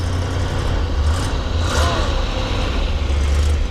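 A large RV engine idles cold with a steady low rumble close by, loud and continuous, with a faint higher whine drifting in partway through.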